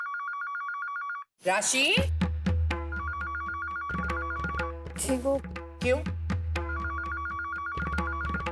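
A telephone bell rings in repeated bursts, loud and near, with people talking in Hindi between and over the rings.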